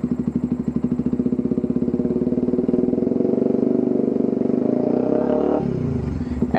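Yamaha Vixion supermoto motorcycle fitted with a Domino quick-action throttle revs hard, a loud, close, rattly engine note climbing steadily, then dropping sharply back toward idle near the end.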